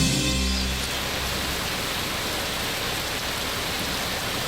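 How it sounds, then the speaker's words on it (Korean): A midsummer rain shower falls as a steady, dense hiss of broadband noise, unbroken and even throughout, with no voices. "한여름의 소나기."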